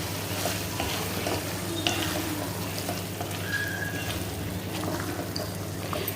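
Bottle gourd halwa being stirred in a pan, a steady close sizzle with soft scraping and stirring strokes running throughout, no voices.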